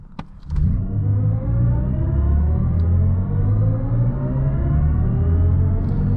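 A 2023 BMW i7 xDrive60 electric luxury sedan pulls hard from 0 to 60, its synthetic drive sound rising in a steady upward sweep over a deep rumble after a couple of sharp clicks at the start.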